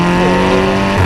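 Volkswagen Golf 6 GTI Stage 2 engine drones steadily and loud under acceleration, a sustained low mechanical tone that shifts pitch briefly near the end as the car brakes.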